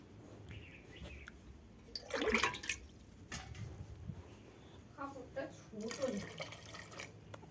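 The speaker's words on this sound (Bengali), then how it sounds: "আর একটু জল লাগবে, আর একটু জল দিই।" Water is poured into a cooking pot as greens simmer, a short splashy gush followed by another pour, close by, with a person speaking in between.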